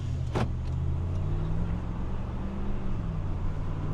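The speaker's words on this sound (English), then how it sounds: "let's go ahead and do a little test drive and see how it drives" Steady low rumble of a rebuilt pickup truck driving along on a test drive, engine and road noise constant throughout, with a brief higher whine near the start.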